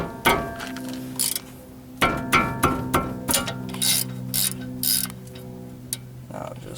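A ratchet works loose a brake caliper bolt on a 2010 Dodge Challenger V6, giving sharp metallic clicks and short bursts of ratcheting, with a few clanks and pauses between strokes, close up.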